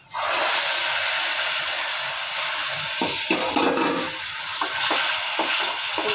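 Mustard paste, soaked from powder into a smooth batter, goes into a hot pan and sizzles in a steady hiss, with a few soft stirring clicks and scrapes toward the end.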